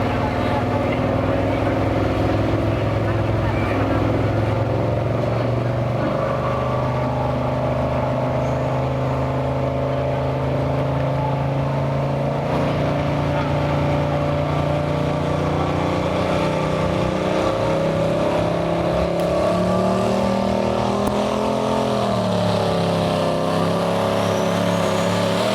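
A Chevrolet 396 big-block truck giving 6.6 liters, running diesel in a class truck and tractor pull, roars loud and sustained for the whole stretch, its pitch wavering and climbing near the end, with voices faintly underneath.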